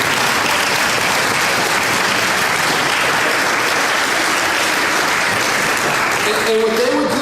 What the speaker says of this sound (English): a round of applause for those